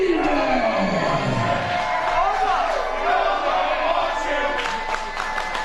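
Fans at a Spokane Anarchy Wrestling show loudly boo and jeer a hated wrestler. A sustained roar of crowd voices opens with a long falling shout, while scattered yells and bellows rise over the continuous din.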